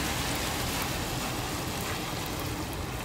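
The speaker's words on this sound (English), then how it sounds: "It is raining." Steady, dense rain hissing on surfaces at Sydney Harbour, a constant wash of drops with no pauses and no voices.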